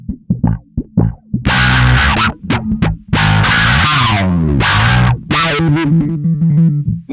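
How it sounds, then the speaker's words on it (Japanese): A bass guitar played through a JACKAL MIDNIGHT high-gain distortion pedal gives loud, gritty, funky phrases with punchy plucked notes and sustained distorted runs, alone with no talking. "結構ねファンクサウンドになりますね。この歪みを足すと。"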